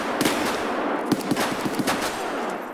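Gunfire in the video game Escape From Tarkov pops in a string of sharp, irregular shots over a steady noisy backdrop, fairly loud and close.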